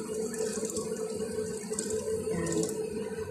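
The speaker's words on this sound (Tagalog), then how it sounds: "Lagyan natin ng tubig guys." Tap water pours steadily into a cooking pot, a continuous splashing gush with no pauses, close and moderately quiet.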